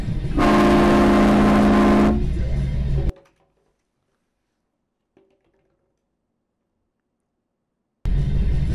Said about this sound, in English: Did they put a train horn in there, bro?